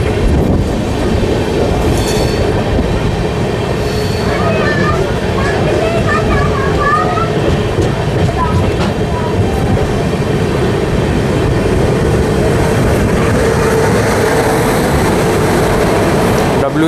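The Jan Shatabdi Express runs at speed, crossing a WAG9 locomotive from the Gonda diesel loco shed near Baradwar station, with a loud, continuous rumble of wheels on rails and faint screeching squeals throughout.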